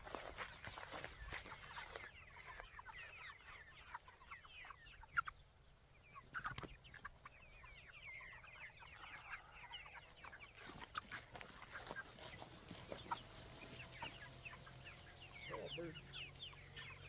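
Chickens cluck continuously close by on a farm, overlapping and chattering softly, with occasional thumps and some faint human voices at low level.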